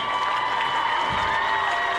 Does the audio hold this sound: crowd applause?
yes